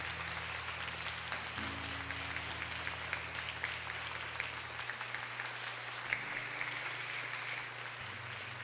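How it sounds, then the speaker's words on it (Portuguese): Congregation at a parish church honoring Our Lady of Fátima claps in a long, steady wave, fairly faint and distant, with low sustained organ or keyboard tones humming beneath. "Aplauda com força, Mãe!"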